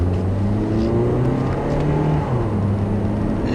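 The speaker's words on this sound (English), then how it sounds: "you can see acceleration is definitely sluggish." A 2011 Toyota Corolla LE with a four-speed automatic accelerates, its engine giving a steady, moderately loud drone that rises gradually beneath road and cabin noise, with no talking.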